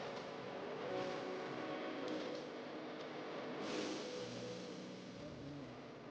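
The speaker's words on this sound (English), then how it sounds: "On the streets, expensive cars pass by one after another." Expensive cars pass one after another along a Beirut city street, a continuous roar of traffic that swells and fades as each vehicle goes by, heard from the roadside.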